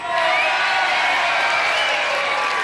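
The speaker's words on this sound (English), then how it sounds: "One happy contender lapping up the cheers of the crowd" A studio crowd at a 1992 UK Gladiators television contest cheers and whoops loudly, a dense, sustained roar of many voices filling the whole moment.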